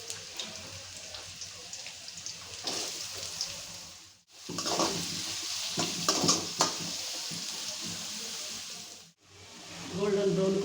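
Onions frying in oil with curry leaves for a South Indian mutton dombe fry, a steady close sizzle with crackles that drops out briefly twice, with voices at times over it.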